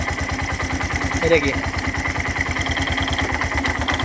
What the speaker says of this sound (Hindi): देखो इंजन में कुछ हड़बड़ाहट हो रही है।